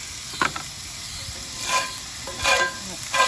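Wieners sizzle and spit in hot oil in a cast iron pan, a steady frying hiss with a few sharper bursts of crackle, close by and with no talk over it.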